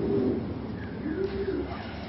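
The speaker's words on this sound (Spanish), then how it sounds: "Esta paloma es la 29311." A female blue racing pigeon cooing close by, a low continuous throaty coo filling the short moment.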